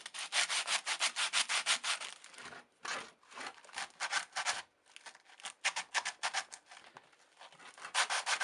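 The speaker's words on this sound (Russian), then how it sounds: "Просто взял наждачную бумагу, скрутил и возвратно-поступательными движениями ржавчину с посадочного места удаляю." Rolled sandpaper rubs rust off the fitting seat of a hammer head in quick back-and-forth strokes, a close, rhythmic scratchy rasping with a few short pauses.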